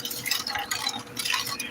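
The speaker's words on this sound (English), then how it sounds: "And just stir it and let that cook a little bit." Bread and butter pickling mixture being stirred in a pot as it cooks, a close, steady scraping swish with light clinks, repeating in short strokes without any talk.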